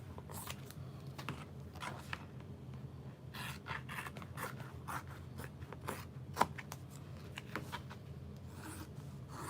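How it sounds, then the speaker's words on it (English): Quiet, irregular snips and crisp rustles of scissors cutting through fabric, close by, with small scattered clicks and no talking. "Just gonna use my scissors."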